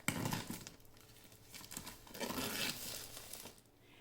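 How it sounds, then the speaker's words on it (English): Close crinkling and tearing of plastic wrap as it is pierced and peeled off a Cricut Mug Press, a continuous rustle with a few louder crackles, no voices. "It's sealed in plastic, so go ahead and pierce the plastic on this and we'll unwrap it."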